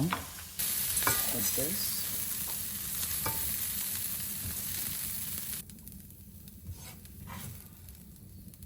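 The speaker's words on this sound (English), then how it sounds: "it looks like my edamame is almost ready because it's sizzling up nice" Edamame fries in an oiled pan with a steady sizzle and a scrape of stirring; the sizzle drops to a softer hiss partway through, and a voice speaks briefly.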